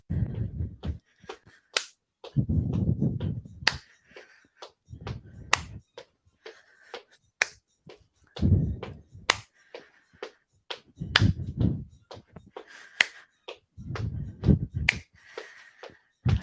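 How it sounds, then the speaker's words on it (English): During a low-impact functional fitness class, sharp single hand claps land at regular intervals on the beat, each crisp and distinct, between softer thuds of marching steps. "let's add a clap"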